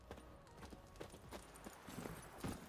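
Roach the horse's hooves clip-clop at a steady walking rhythm on the ground in The Witcher 3, faint and fairly close, with no talk over them.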